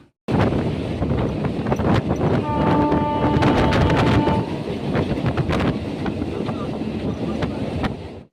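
Constant loud rumble and rattle from inside a moving train, continuous throughout with a few steady tones in the middle, and voices talking under the din.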